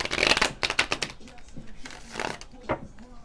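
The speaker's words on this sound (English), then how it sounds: "but I also like to shuffle on camera just to get the energy going." Tarot cards are shuffled by hand in quick, crisp bursts of riffling and slapping, loud and close with brief pauses between rounds.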